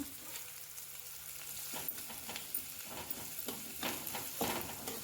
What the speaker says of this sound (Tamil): இப்போ 3 வெங்காயம் பொடிசாக அரிஞ்சதை போட்டுக்கலாம். போட்டுட்டு நல்லா கிண்டி விட்டுக்கோங்க.